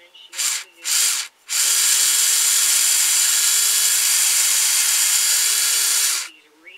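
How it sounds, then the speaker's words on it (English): A power drill with a 1/4-inch bit whirs in two short bursts, then runs steadily for several seconds as it bores into wood before winding down. "I'm going to use a 1/4-inch drill bit"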